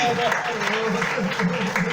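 Congregation applause fills a church service in a sustained broad patter, while a voice speaks loudly over the clapping throughout.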